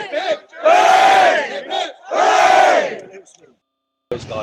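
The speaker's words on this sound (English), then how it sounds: "3 cheers for the organiser!" Crowd at a UKIP and Unity march in Exeter gives loud, ragged three cheers: two long rising shouts separated by a brief dip, then a pause and the start of more voices.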